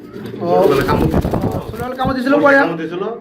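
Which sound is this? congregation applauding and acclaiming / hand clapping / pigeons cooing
pigeons cooing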